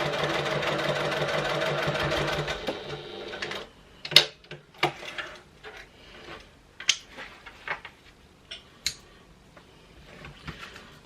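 A sewing machine runs a basting stitch along the flap of a small clutch wallet. It gives a brief continuous whir, then stops, followed by scattered clicks and handling taps.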